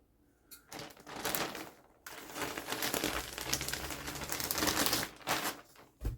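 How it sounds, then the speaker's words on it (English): Crinkly plastic rustles and crackles up close as scissors cut a bag of yarn open and it is pulled apart, with several short bursts and brief pauses between them. "We are going to use some scissors to open this bag."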